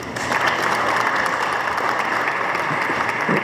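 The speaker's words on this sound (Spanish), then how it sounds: "le vamos a pedir a ustedes que le demos un fuerte aplauso" Loud, steady applause from an audience for a speaker at a talk in Durango, dense clapping filling the whole stretch without voices.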